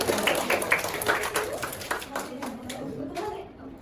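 Classroom of students applauding a group coming forward to present, a dense, steady patter of many hands mixed with children's voices and chatter throughout.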